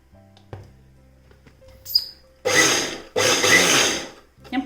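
A mixer grinder pulses spice paste in a dry grinding jar, giving two loud whirring bursts about a second each with a short gap between, after quieter kitchen clatter.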